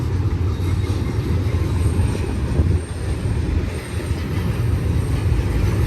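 A BNSF freight train hauled by SD70MAC locomotives, with engines placed mid-train, rolls past nearby in a loud, continuous low rumble of wheels and cars, with no talk.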